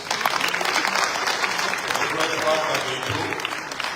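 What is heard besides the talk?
audience applause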